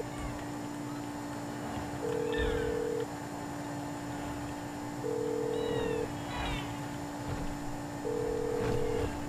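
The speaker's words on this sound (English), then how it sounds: "Honestly, getting annoyed with this ringing phone." Phone ringtone inside the video game GTA V, sounding in three steady tonal bursts about three seconds apart, each lasting roughly a second, over busy game background noise with chirpy effects.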